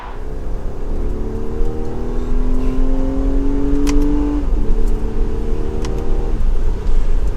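Inside a 2022 Infiniti QX60 SUV cruising on the highway, a steady engine and road drone hums loudly, with a rising whine that shifts pitch midway.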